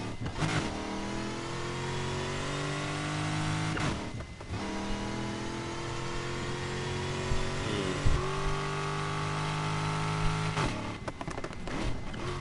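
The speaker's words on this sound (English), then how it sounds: "wait, what's that sound like? Oh, wait, it's the supercharger." Car engine with a supercharger in the racing game Need for Speed Heat, a steady droning whine with rising harmonic tones over continuous revving, loud and close, with brief dips in between.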